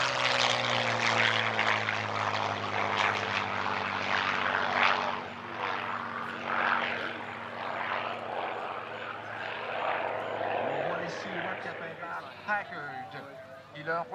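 A P-51 Mustang, Mark IV variant, flies past at the Gatineau Air Show with a loud propeller engine roar. The roar swells and then slowly fades as the plane moves away, and a commentator talks over it.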